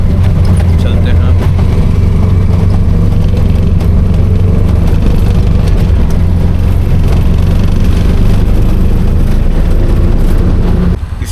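Auto rickshaw engine droning steadily during a ride through Ujjain, a loud, continuous low rumble with road noise throughout.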